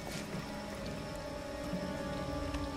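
Steady rain falling in the horror video game The Quarry, a soft continuous patter of drops on surfaces, with no voices over it.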